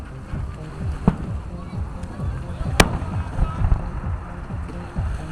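Fireworks bursting at a Fourth of July Freedom Fair show in Tacoma, distant booms and sharp cracks over a continuous outdoor rumble, with people talking nearby.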